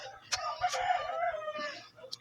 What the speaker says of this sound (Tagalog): Huwag yun ang pansinin niyang manok.